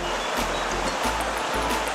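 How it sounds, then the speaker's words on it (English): A mountain brook below frozen Ruby Falls in Alberta rushes steadily, a dense, broadband wash of flowing water with small splashy fluctuations, close and continuous. "Shall we drink this babbling brook?"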